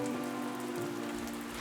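Rain falls outdoors in a steady, dense patter on surfaces at a fairly even, moderate level, with a low hum running beneath it and no voices.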